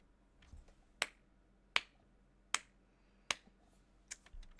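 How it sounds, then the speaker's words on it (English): Slow, evenly spaced claps, about five sharp hand claps with long pauses between them, fairly faint in a quiet room. "That deserved a slow clap."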